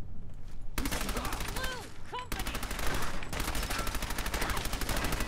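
Rapid automatic gunfire in the video game Fallout 4 rattles in dense, evenly spaced bursts with brief pauses between them, loud and close, with short tonal game sounds mixed in.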